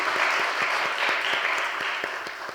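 Church congregation applause at a Friday service for the high-school youth group, a dense burst of clapping with a loose steady beat that fades slightly toward the end.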